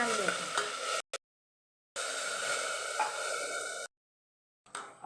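Stirring in a pan of tempering, with peanuts and chutney in hot oil before water is added, gives sizzling, scraping bursts broken by short silences.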